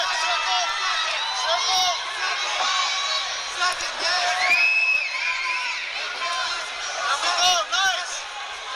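Boxing crowd at a title fight cheering and whooping in a steady loud roar with whistles and shouts swelling throughout, while a commentator talks over it.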